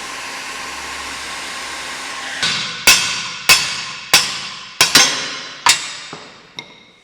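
Heat tool blowing steadily on a stuck part of an old farm ATV, a constant airy whir that continues while a series of sharp, ringing hammer strikes lands at intervals.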